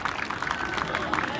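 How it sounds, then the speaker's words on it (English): A stadium crowd claps hands, a dense rapid patter of many hands, steady and fairly loud through the whole moment. "all you do is bang your hands together. That means clap."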